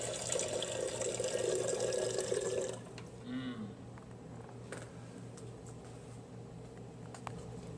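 A VersaFiller on a water cooler fills a bottle with a steady, loud rush of water for about three seconds, then cuts off, leaving a quieter hum and a few faint drips.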